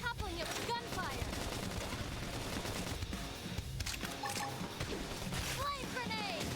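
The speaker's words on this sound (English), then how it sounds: "Try toppling it with gunfire." Rapid gunfire bursts crackle through a busy, dense mix of battle effects and music during combat in the video game Xenoblade Chronicles X Definitive Edition, with voices calling out over the action throughout.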